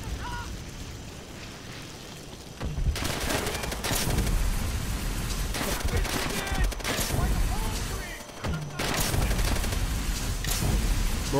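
Dense, sustained gunfire from the Call of Duty: World at War campaign, loud and close, with overlapping volleys and booms that barely let up except for a brief dip before the shooting resumes.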